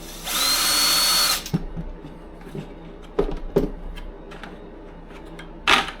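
A power drill bores a hole in the plastic lid of a bee feeder bucket, a loud steady whine of just over a second, followed by a few soft knocks and clicks as the lid is handled.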